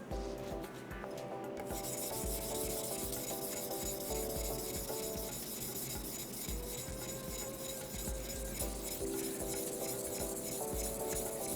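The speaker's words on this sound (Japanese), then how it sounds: "研いでる感じも、引っかかりが多いとかはなくて、結構滑らかな感じなんですけど、しっかりと削ってくれるような感じになっています" Knife blade being sharpened on a hard synthetic whetstone made from natural stone, a steady rhythmic scraping and rubbing that runs continuously and close up, with faint tonal ringing underneath and no talking.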